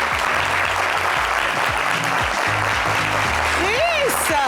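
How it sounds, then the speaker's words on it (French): An audience applauds to welcome a guest onto a stage, steady dense clapping from a crowd lasting several seconds, with a brief whoop near the end. "Veuillez applaudir chaleureusement Chris Axel Julien Adjessi, a.k.a. Kadjessi."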